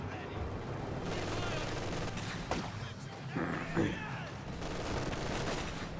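Grenadiers in the Company of Heroes 2 video game fire a volley of rifle shots in a few quick bursts over a busy battle background, with a commentator speaking throughout.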